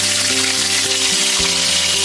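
Green peas, garlic, chilli, onion, capsicum and potatoes fry in a pan cooked inside a truck, giving a steady close sizzle over a low constant engine-like hum.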